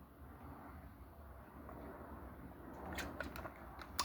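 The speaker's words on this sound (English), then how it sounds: "There's a plane passing, so I gotta wait now." Low, steady airplane rumble drones overhead throughout, a distant broadband roar holding level with a few faint clicks and small noises late on.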